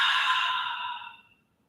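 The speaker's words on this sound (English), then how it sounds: "Exhale out the mouth." A single long, breathy exhale through the mouth during a Kundalini yoga session, close and soft, fading out gradually into silence.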